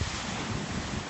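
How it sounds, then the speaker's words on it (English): Large ocean waves breaking on a windy shore on the island of Lesbos, a loud continuous roar of surf mixed with wind buffeting the microphone. "The waves are pretty big today."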